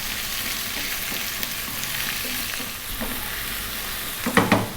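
Chopped onion frying in a pan of hot oil over high heat with salt added, a steady sizzle under occasional stirring scrapes, which grow louder and busier near the end.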